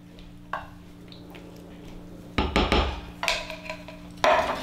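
A spoon scrapes coconut cream out of a can, with a few light knocks early on, then louder scraping and clinking bursts against the can near the end.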